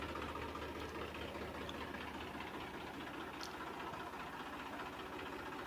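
A tractor engine idles steadily for the whole stretch, a low, continuous rumble with an even knocking rhythm and no voices over it.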